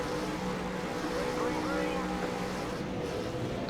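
V8 Supercars race car engines held at high revs on the starting grid, a loud, dense, sustained roar of many engines droning together without a break.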